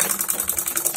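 Sewing machine stitching a zipper onto an old track suit, running in a quick steady rhythmic whir of repeated needle strokes, close and continuous.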